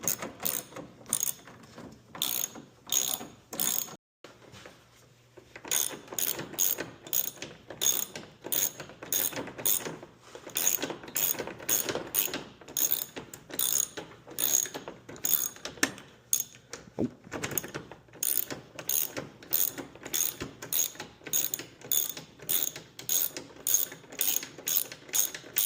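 Rapid ratchet clicks as headlight mounting bolts are backed out on a 2006-2010 Ford Explorer, in repeated bursts of fast ticking with brief pauses between strokes, close and fairly loud with no voice.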